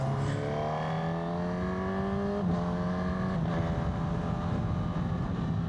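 A Honda CB1000GT inline-four motorcycle, ridden two-up, revs hard to overtake, its engine note climbing steadily in a smooth rising whine, then shifting gear and climbing again, heard close and loud over constant wind rush.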